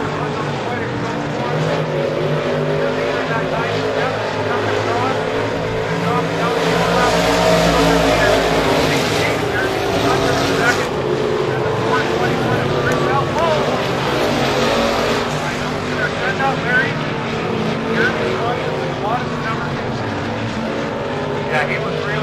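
IMCA stock cars race at Estevan Motor Speedway, a dirt oval, with a continuous loud roar of engines revving and snarling as they pass. The sound swells briefly midway, and no one talks over it.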